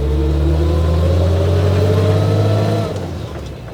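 A 1941 Dodge Power Wagon engine drones loudly and steadily up close, then its note and volume drop near the end as the truck shifts into third gear, with no talk.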